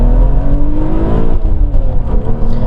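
A BMW Z3 M roadster's high-revving engine pulls hard from first gear on a strong launch, a loud, close, rising engine note with no talking.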